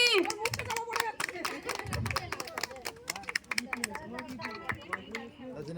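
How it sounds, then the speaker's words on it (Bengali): A crowd at an outdoor prize ceremony claps in quick, uneven bursts. The clapping is mixed with lively chatter and children's voices close by. "একটু জোরে হাততালি হয়ে যাক"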